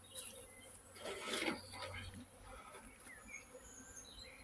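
Honeybees buzz around hive frames at an apiary during an inspection: a faint, steady hum with a brief louder swell near the start, set against quiet outdoor ambience.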